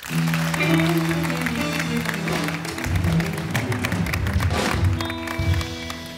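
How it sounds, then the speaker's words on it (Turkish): A studio audience on a Turkish television show applauds after a song, the clapping mixed with lingering music chords and a few thumps before fading. "Alkışlıyoruz."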